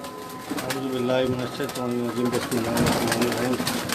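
Breeder pigeons in Karachi coo repeatedly in low, throaty rolls, close by, with people talking over them throughout.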